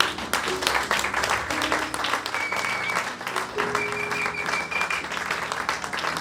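A church congregation applauding to acclaim the Lord, a dense and sustained wave of clapping with scattered voices and cheers throughout.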